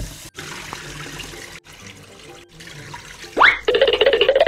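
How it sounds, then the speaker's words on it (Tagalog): Rice is rinsed and swished in water, a soft sloshing and trickling that builds into a louder splashing pour near the end, close by with no talking. "So hugasan na natin itong bigas."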